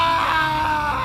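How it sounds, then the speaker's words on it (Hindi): An old village man screams on a silent night in a Hindi horror story: one loud, strained, sustained cry that holds steady and close. "रामू काका के चीखने की आवाज रात के सन्नाटे को चीर गई।"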